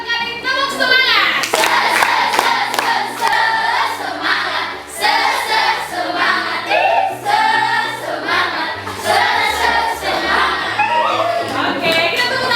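Junior high students in a Catholic school classroom chant a counted 'tepuk semangat' clapping routine, crisp rhythmic claps in growing groups woven through their loud unison voices.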